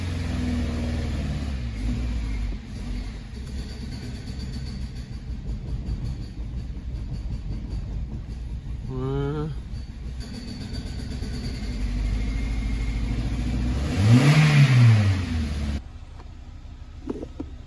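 A 2006 Toyota Corolla 1.8 engine, recently misfiring and cleared of oil in the cylinders, runs steadily with a low hum and one sharp rev rising and falling near the end, heard close with no speech.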